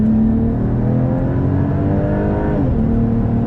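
A Volvo fitted with an upgraded TF80 automatic transmission accelerates, its steady engine drone rising and then dipping briefly as the gearbox shifts near the end, loud and continuous throughout.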